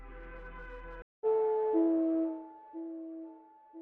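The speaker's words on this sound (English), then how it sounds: "So without the reverb, my high notes would sound like this." Dry high synth notes with no reverb play one after another, each clean and upfront with a quick cutoff. They follow a brief low held tone and a short gap.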